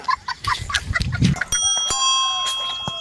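A bicycle bell rings several times, each a bright metallic ring that lingers after it, clear and close over some scattered clatter at the start.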